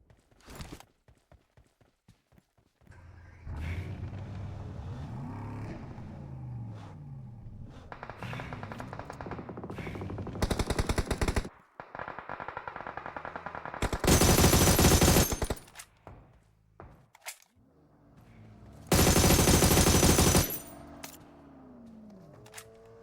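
Gunfire in PUBG Mobile: scattered single shots at first, then long bursts of rapid automatic fire, with several very loud, harsh volleys near the middle and end, set against a steady game background.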